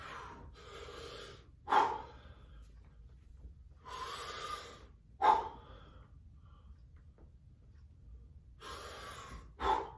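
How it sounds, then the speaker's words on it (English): Slow, deep breathing during a cold therapy breathing exercise, with long airy breaths and three sharper, louder inhales spaced a few seconds apart. Close to the mic, and no speech. "Let me take a couple breaths."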